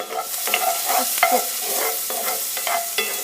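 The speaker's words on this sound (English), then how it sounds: "stir those onions up. Get everything incorporated in here." Onions stirred in a pan with a wooden spoon for gluten-free spaghetti sauce, giving a steady sizzle broken by rhythmic scraping strokes, close-up and without any voices.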